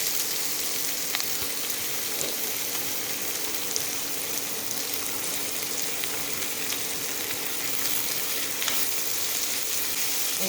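Potato pieces frying with ginger, green chilli and a few garlic cloves in a pan, giving a steady, dense sizzle that stays even and fairly loud throughout with no talking.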